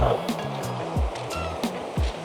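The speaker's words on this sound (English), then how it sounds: "bar the waves rolling in and the pebbles" Waves roll in on a quiet pebble beach at Budleigh in the morning, each surge ending in a rattling wash of stones, repeating every half second or so, close and moderately loud.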